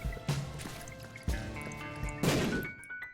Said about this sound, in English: I like the sound effect of the dripping in here.